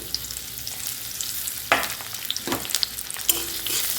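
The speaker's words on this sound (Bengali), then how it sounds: "তেলটা ভালো মতোই কিন্তু গরম হয়ে গেছে। তো এখানে আমি দিয়ে দিচ্ছি কেটে রাখা পেঁয়াজটা।" Chopped onion hits hot oil in a pan for a Bengali egg curry, a steady loud sizzle and crackle with sharper bursts as pieces land and get stirred, close up with no talking.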